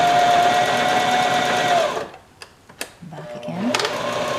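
A Janome HD3000 sewing machine running a straight stitch, with a loud, fast, steady whir that stops abruptly, a couple of clicks following, then the motor starting again for a short reverse run.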